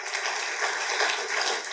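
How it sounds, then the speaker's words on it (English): An audience applauds a discussion panel at a talk on environmental legacies, a dense steady wash of clapping throughout with no voices over it. "a round of applause, please, for the panel."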